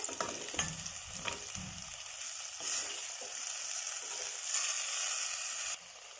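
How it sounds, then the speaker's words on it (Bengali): Village chicken stirred and coated with spices in a clay pot, soft frying hiss with scattered scrapes and knocks of the spoon against the pot, close and fairly quiet. "ভালো করে নেড়ে মশলার সঙ্গে মাখিয়ে নেব"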